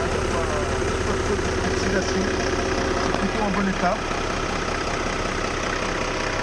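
Boat engine running inside the engine compartment of a 2006 Antares Série 9 fishing boat, a steady low droning idle that continues under a man's nearby speech throughout.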